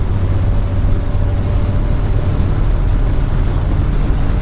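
Steady low engine and road drone from inside a vehicle cruising at 65 mph around 2000 RPM, with a truck fitted with 3.25 gears, constant and fairly loud with no talk.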